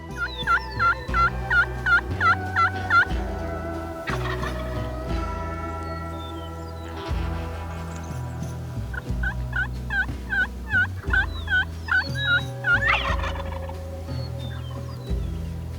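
Wild turkeys, young jakes, gobble loudly in two long bursts of rapid rattling calls outdoors, close and prominent over a low, steady tonal backdrop.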